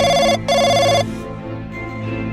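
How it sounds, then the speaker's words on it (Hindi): A telephone rings in two bursts of rapid electronic trilling, a short gap between them, then falls silent with a faint room tone and low hum left behind. "इधर गुल्ली बुल्ली कंप्यूटर पर हॉरर वीडियोस देख रहे थे और तभी इनका टेलीफोन बजने लगता है।"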